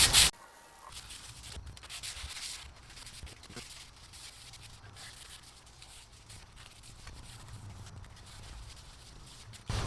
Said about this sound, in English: I'm going to use this crinkled up aluminum foil. See if I can get that rust off there.